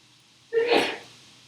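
A single short sneeze bursts out sharply in a quiet room during a lecture, with nothing else around it.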